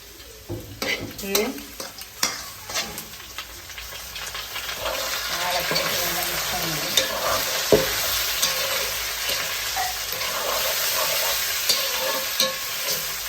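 Dal frying in a hot pan and being stirred: a sharp, close sizzle with repeated scraping and clattering strokes, scattered at first and then settling into a continuous loud crackle.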